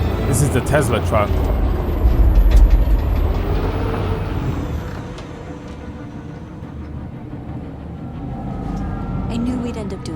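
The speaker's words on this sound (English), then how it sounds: "This is the Tesla truck." A Tesla truck in the video game Detroit: Become Human gives a loud burst of air-brake hiss over a heavy rumble. It then settles into a steadier, quieter engine drone.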